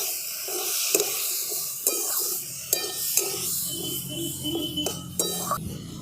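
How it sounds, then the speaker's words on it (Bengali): Potatoes are being stirred in a pan with cumin powder, turmeric and other spices. Soft sizzling runs throughout, broken by several sharp clinks of a utensil against the pan. "অল্প একটু জিরে গুঁড়ো সমস্ত কিছু আমি একসঙ্গে খুব ভালো করে আলুর সাথে মিশিয়ে নিচ্ছি"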